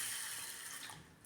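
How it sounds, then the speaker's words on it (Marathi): Sago pearls swished and rinsed in a bowl of water, a brief, soft, steady watery rush like a running sink, close by and fairly quiet, with no talking. "आपण 2-3 पाण्याने साबुदाणा स्वच्छ धुवून घेऊया।"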